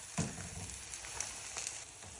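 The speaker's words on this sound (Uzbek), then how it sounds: "Har bir qatlama uchun 2 qoshiqdan yog' quyib qovuriladi" Qatlama flatbread sizzles steadily in hot oil in a pan, a soft continuous crackle with occasional faint pops, no voices.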